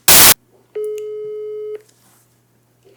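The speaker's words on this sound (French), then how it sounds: "Et je vais l'appeler en direct pour lui dire..." A telephone line tone heard while placing a call: one steady electronic beep lasting about a second, preceded by a short loud burst of noise and followed by near silence, heard alone and close.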